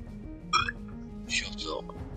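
Two people burp at once in a gaming voice chat during Rainbow Six Siege, two short throaty bursts standing out from an ongoing hum, with chatter close around them.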